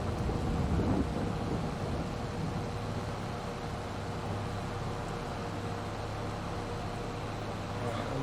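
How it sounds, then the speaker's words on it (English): Steady rain in Farming Simulator 22 on the Haut-Beyleron map, a dense continuous hiss with low rumbling underneath, constant throughout at moderate level, with no voices. "this rain should be about to clear very soon"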